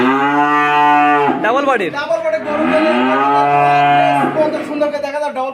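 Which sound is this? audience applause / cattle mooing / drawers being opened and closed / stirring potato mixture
cattle mooing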